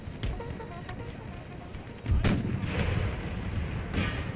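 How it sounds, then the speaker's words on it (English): Cannons thunder in a battle in Empire: Total War, with a heavy boom that rolls out into a sustained rumble, then another distant blast, amid continuous battlefield din. "cannons fired over my own troops"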